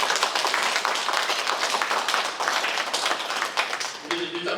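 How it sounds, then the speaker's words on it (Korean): A Catholic parish congregation at a Holy Spirit prayer meeting gives welcoming applause to two guests, with loud, dense clapping that is close and rhythmic. It tapers near the end as a voice begins. "환영의 박수를"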